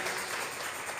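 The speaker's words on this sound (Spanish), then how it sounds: "Vamos a regalarle ofrenda de palmas al Dios de la gloria." Congregation applauding in a church service, a dense steady wash of clapping from many hands filling the whole moment.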